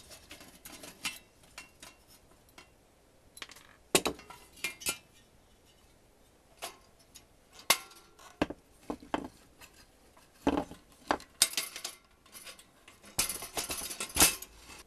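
Sparse metallic clinks and taps as bolts are undone on a 1950s Sunbeam T-20b toaster, close and fairly quiet, with short bursts of rattling metal scattered irregularly and no talking.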